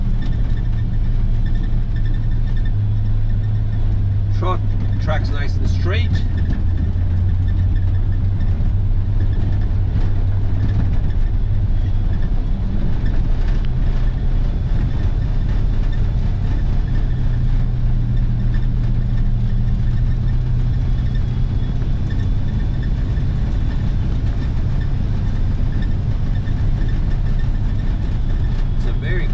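A 1955 Ford box truck with a 454 engine drives along, its low, steady engine drone continuous throughout while someone talks over it.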